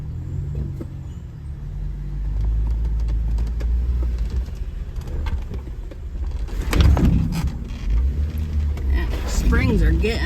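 A Jeep crawling an off-road park trail, its suspension springs creaking and groaning under a low engine rumble, with a few sharper squeaks and rattles and people talking inside the vehicle.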